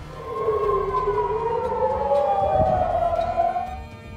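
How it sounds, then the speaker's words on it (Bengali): An air raid siren wails over Israel during a missile attack from Yemen, two loud rising and falling tones sweeping across each other in a long steady cry that fades out near the end. "এ সময় দেশটির আকাশে সাইরেন বেজে ওঠে"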